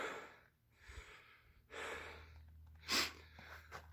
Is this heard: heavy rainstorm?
no